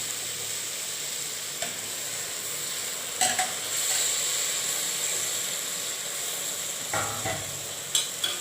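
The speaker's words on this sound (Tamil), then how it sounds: "நம்ம கட் பண்ணி வச்சுருக்க தக்காளி போட்டுக்கலாம் நல்லா பிணைஞ்சிட்டு போட்டாலும் நல்லா சீக்கிரம் வதங்கும்" Chopped tomatoes sautéing in a pan for tomato ghee rice give off a continuous soft sizzle and hiss, with a few sharp clinks of a spoon stirring now and then.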